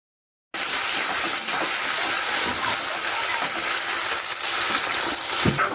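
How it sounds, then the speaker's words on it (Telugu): Potatoes and peanuts frying in a pan in a home kitchen while poha is being made, giving a loud, steady, close-up sizzle and hiss that runs unbroken after a silent start. "ఆలును కూడా కొంచెం ఒక 2 మినిట్స్ అట్లా ఫ్రై చేయాలి."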